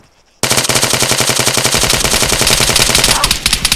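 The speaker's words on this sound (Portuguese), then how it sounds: "acertei uma porrada de tiro no cara" Automatic gunfire in the video game Arma 3: after a brief quiet moment, a loud sustained burst of rapid machine-gun shots rattles on close and continuous for several seconds, with no talk over it.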